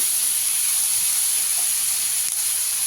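Whole cumin seeds and dried red chillies frying in hot oil in a pan, a steady, close hiss of sizzling that continues evenly throughout.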